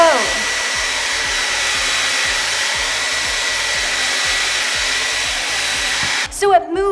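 A hairdryer blows a fast column of air with a loud, steady whooshing hum and a rhythmic motor buzz, then cuts off abruptly near the end, followed by a brief voice.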